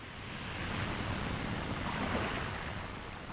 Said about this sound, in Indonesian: Di luar anginnya terlalu kencang untuk Eyang